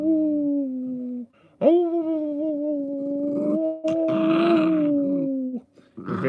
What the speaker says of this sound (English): He's a very talky puppy.